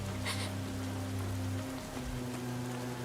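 Rain falling in the NIKKE video game, a steady patter of raindrops on a surface, heard alongside a low sustained droning tone in the game audio, with no speech.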